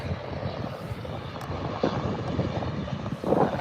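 An aircraft at Birmingham Airport roars steadily and loudly throughout, a broad sustained engine rumble with brief gusts of wind buffeting the microphone.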